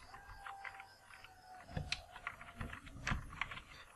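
Irregular bursts of clicking keys on a computer keyboard as a search keyword is typed, close and moderately quiet, with a few louder keystrokes standing out.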